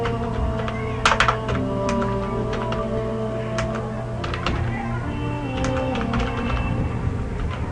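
Urdu text being typed on a computer keyboard, irregular clusters of light key clicks over a steady low background hum, close and moderately loud.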